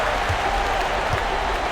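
A home crowd in a basketball video game roars and claps steadily, a dense wash of cheering that stays loud for the whole stretch with no clear speech over it.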